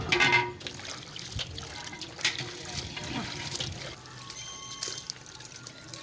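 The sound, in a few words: washing chopped tinda (apple gourd) in water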